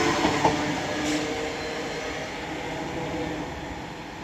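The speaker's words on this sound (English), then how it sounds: "now coming through is another Avanti West Coast Class 390 running from London Euston to Manchester Piccadilly" An Avanti West Coast Class 390 passenger train running through Cheadle Hulme station on the West Coast Main Line, a steady broad rushing roar that holds at an even level throughout.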